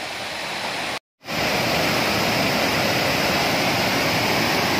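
A flooded mountain stream at Pù Tong waterfall in Mường Lát, Vietnam, swollen after a storm, roars steadily at close range, a dense continuous rush broken only by a momentary dropout.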